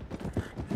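Tired horse in the video game RedM, set in 1920, trotting with a short run of soft, evenly spaced hoof clip-clops, heard close and alone.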